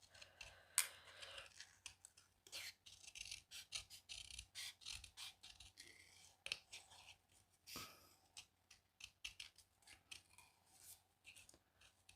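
Small scissors snip around card pieces for a handmade birthday card, a long run of close, crisp cuts in uneven bursts with brief pauses, quiet and without talking.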